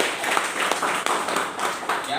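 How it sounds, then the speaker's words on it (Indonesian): A church congregation claps together in praise, a busy, fairly loud mix of hand claps with voices rising in the room alongside. "Tepuk tangan buat Tuhan Yesus"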